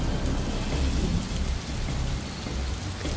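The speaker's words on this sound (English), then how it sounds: "It thundered and lightened, and the rain poured down from the sky in torrents." A heavy thunderstorm pours down in torrents, with dense, continuous rain and deep rolling thunder rumbling underneath, loud and unbroken from start to finish.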